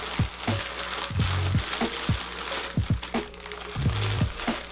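Sphagnum moss tipped from its bag into a small bowl, giving a run of dry crinkling, rustling crunches in uneven bursts, close by with no talk.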